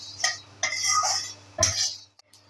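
Cloves, cardamom and black pepper roast in oil in a pan, heard as bright clinks and scraping as the spices are stirred, in two short bursts close by.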